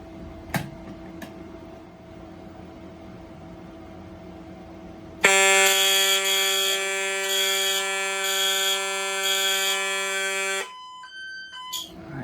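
A Silent Knight 6808 fire alarm system goes off after its SK Heat-W ceiling heat detector is activated: a loud, steady, piercing electronic tone sounds for about five seconds, then cuts off and gives way to a few short beeps.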